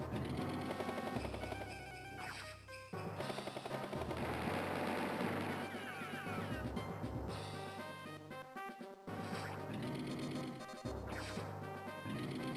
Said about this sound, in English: Oh, the artillery actually took it out.